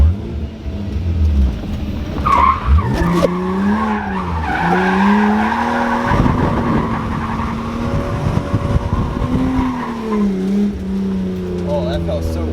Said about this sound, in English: I drifted while I was doing the donut